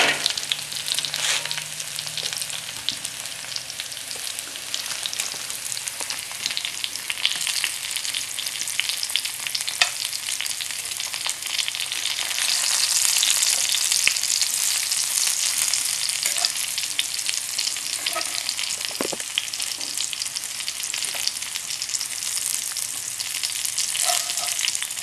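Vegetables, including onions, sizzle and fry steadily on a survival stove, a continuous close hiss with occasional stirring clatter and no talking.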